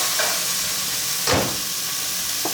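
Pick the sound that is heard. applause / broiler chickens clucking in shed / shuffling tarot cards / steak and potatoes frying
steak and potatoes frying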